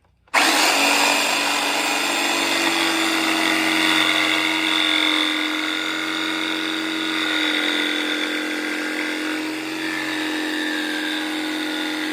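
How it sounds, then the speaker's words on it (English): A power tool bites into a thin piece of plywood in a workshop during a car special build, starting abruptly and then droning loudly and steadily for about twelve seconds with slight shifts in pitch. "I'm going to cut a piece of plywood just to thicken it out really."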